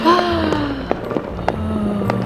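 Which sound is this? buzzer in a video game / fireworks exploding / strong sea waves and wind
fireworks exploding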